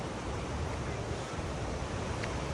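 A strong current of flowing water at a camping spot, rushing steadily as a loud, continuous broadband roar with wind noise on the microphone.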